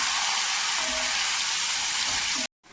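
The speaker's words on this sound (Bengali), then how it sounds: "এর মধ্যে দেব আমি 2টো ছোট সাইজের পেঁয়াজ কেটে রেখেছি" Two small chopped onions hit hot oil with panch phoron and dried chilli, a loud bright continuous sizzle close up that cuts off abruptly near the end.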